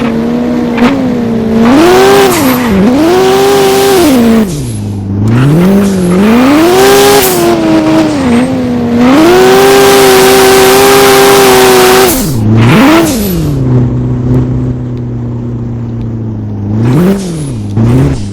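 Brand-new race cars, bought for drifting, rev hard and loud, with engine pitch rising and falling through repeated accelerations and shifts, punctuated by brief drops in sound.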